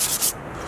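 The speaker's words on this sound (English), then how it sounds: "So Alfonso sanding them down just a little bit." Sandpaper rubbing surface rust off old brake rotors in a backyard: two quick scratchy strokes, close and fairly loud, then a quiet hiss.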